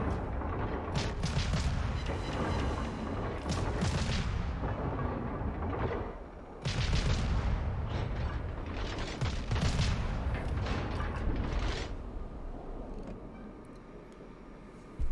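Warship guns fire repeatedly in a naval battle game, a heavy Akizuki-class destroyer loosing salvo after salvo; loud booming bursts come in rapid clusters, easing off toward the end, with no voices.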